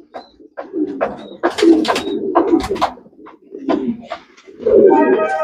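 Pigeons coo in a home bird collection with soft, throaty, repeated coos close by, mixed with rustling and a few faint higher chirps.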